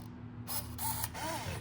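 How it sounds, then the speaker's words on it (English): An Olympus IZM220 camera in continuous shooting mode, its shutter and mechanism whirring and clicking steadily at close range for under two seconds, with no talking. "If I didn't release the shutter, it will keep shooting."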